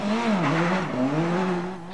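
Rally car leaving the service park at an Austrian rally championship event in 1999, its engine droning loud and close with rising and falling revs over about two seconds.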